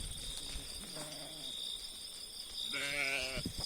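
Two sheep bleats, a weaker one followed by a louder, wavering one, heard outdoors in a village over a constant high insect-like chirring.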